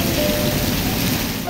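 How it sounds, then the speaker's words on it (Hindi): Steady rain pours over Karachi, a dense, even hiss of falling water running without pause and fairly loud, with no voices over it. "कराची के मुख्तलिफ इलाकों में भी हल्की और तेज़ बारिश का सिलसिला जारी है।"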